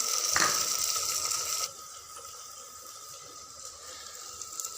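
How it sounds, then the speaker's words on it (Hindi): Water poured from a tap or jug into a chicken and pumpkin curry masala with tomatoes and green chillies, a steady close rush for about a second and a half that then drops to a faint trickle and quiet cooking hiss. "थोड़ा सा हम इसमें पानी शामिल कर देते हैं।"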